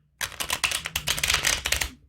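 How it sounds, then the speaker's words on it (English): A deck of tarot cards is shuffled close by, a rapid run of crisp riffling flutters and slaps that lasts nearly two seconds with no talking. "Get one more shuffle."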